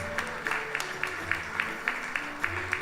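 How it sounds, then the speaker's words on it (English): Applause for an award at a Krishna Mandir anniversary service, a steady round of clapping from a gathered crowd with a rhythmic pulse, moderately loud and sustained, with tonal music or voices faintly underneath. "let's give him a wonderful round of applause"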